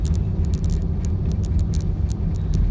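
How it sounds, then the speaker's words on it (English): Road rumble fills a car's cabin during a daily commute drive to work, with a steady low roar and faint intermittent ticks and clicks on top. "we record this here in the car on the way to work"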